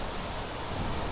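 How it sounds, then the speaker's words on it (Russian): Heavy rain pours down in the video game The Planet Crafter, a dense, steady downpour hissing evenly throughout with no pauses or voices. "Какой тут дождик. Ливень прям, ливень, смотрите прям."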